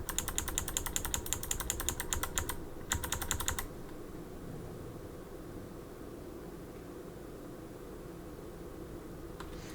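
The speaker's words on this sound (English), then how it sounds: "This is not a gaming controller. It's my keyboard. The arrow keys." Computer keyboard arrow keys pressed rapidly in steady clicking bursts during a live drawing session, stopping after about four seconds and leaving quiet room noise.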